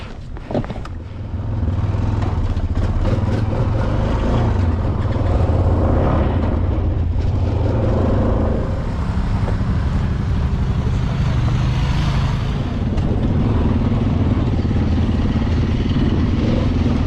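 A 2016 Honda Rubicon 500 ATV runs at close range, a loud steady engine drone with some mechanical clatter, continuous and without speech.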